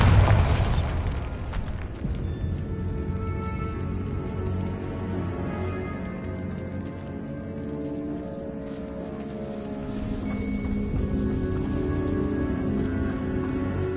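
A Bombarda spell bursts in Hogwarts Legacy with a loud booming blast in a catacomb, followed by a long rumbling wash of falling debris and crackling rubble that stays dense and steady without fading.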